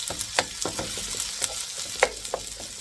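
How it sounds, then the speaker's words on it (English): Garlic, onions and ginger sauté in a pan for a Filipino-style beef and mushroom dish: a quiet, steady sizzle with small crackling pops and a few sharper spatters, with no voices. "you always have to like saute something"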